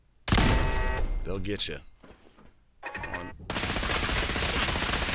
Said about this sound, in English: these turrets in here are very powerful